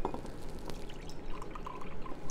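Water poured into a glass jar to mix with 190-proof alcohol for an echinacea, burdock and nettle root tincture, a soft continuous trickling and splashing at close range, quiet and steady with no talking.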